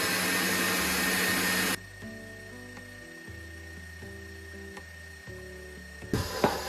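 An electric mixer whirs loudly for a couple of seconds while combining almond-apricot biscotti dough with almond extract, then stops, leaving low mechanical hums, faint clicks and a brief rattle as it starts up again at the end.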